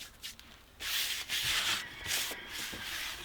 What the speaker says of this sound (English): And I'm going to take my mulch. I'm going to put it back on the surface of the soil